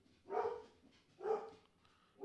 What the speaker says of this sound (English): Can you please stop barking, my dear?